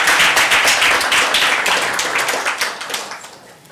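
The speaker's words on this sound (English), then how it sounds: "please give him another very warm round of applause" An audience at a community indaba on elections gives a dense, steady round of applause, many hands clapping together loudly before gradually thinning and fading.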